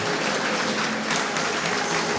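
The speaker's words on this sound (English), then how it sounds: "Can we get a huge round of applause for this incredible panel?" Audience applause fills a packed conference room after a tech entrepreneurship panel, steady dense clapping throughout at moderate level, with no voices standing out.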